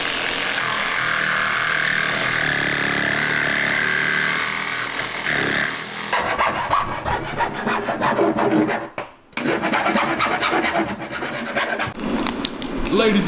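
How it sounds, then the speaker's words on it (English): Wood being sanded during a skoolie bus build: a steady loud abrasive rubbing hiss at first, then a rapid scratchy rasping stroke rhythm with a brief pause near the end. "So we're gonna sand it. Full sand, baby."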